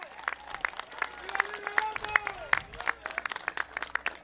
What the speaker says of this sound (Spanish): le pido que le demos un fuerte aplauso